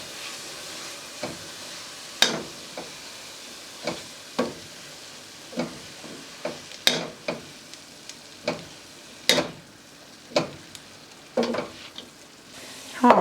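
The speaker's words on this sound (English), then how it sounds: "I'm just going to let this sit here for a few minutes while I finish up cooking my cabbage." Cabbage frying and caramelizing in a pan, with a steady low sizzle broken by repeated sharp scraping stirs every second or so, close and fairly loud, with no talking.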